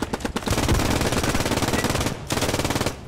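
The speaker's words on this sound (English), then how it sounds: "I've got the MG42, the machine gun I find the most difficult to handle." Extremely rapid MG42 machine gun fire in a video game, a dense, continuous roar, two long bursts separated by a brief pause, loud and close.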